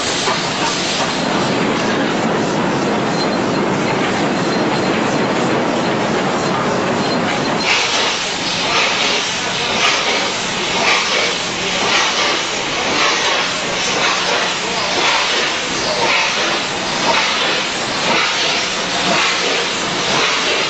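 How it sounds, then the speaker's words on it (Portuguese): Steam locomotive of the Pondicherry Special on the Southern Railway south of Madras, pulling into Pondicherry station with a loud, steady hiss of steam over rolling wheel clatter and rhythmic clicks, continuous and close, with no talk. "Nada evoca mais o romance da ferrovia como uma máquina a vapor."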